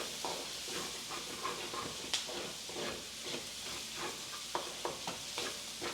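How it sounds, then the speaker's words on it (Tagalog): Chopped onions sautéing in a hot pan while cooking Filipino pork humba, a steady close sizzle broken by frequent scraping stirs and a few sharp clacks of the spatula against the pan, with no talking. "hintayin lang natin mag-sweat yung sibuyas para lumambot"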